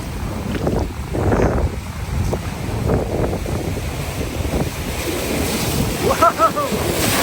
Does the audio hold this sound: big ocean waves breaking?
yes